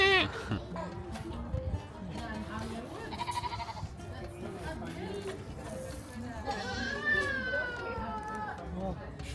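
Goats bleat several times at close range in a pen, interleaved with people chatting and calling over them.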